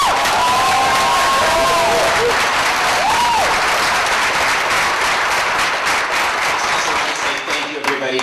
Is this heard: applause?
yes